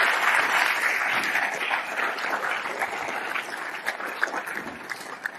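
A crowd at a Yale School of Management talk by the Ukrainian President bursts into sustained applause, dense and even, with scattered sharper claps standing out as it slowly thins.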